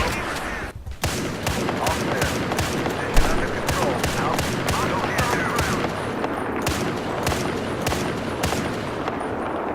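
Rapid, steady bursts of USMC rifle fire from the Battlefield Heroes video game, a dense fusillade of sharp shots repeating nearly continuously at close range with a brief gap near the start, with no talk over it.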